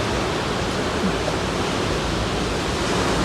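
Ocean surf rolling onto the shore, a steady broadband wash of breaking waves with no gaps, loud and close, running without any voices.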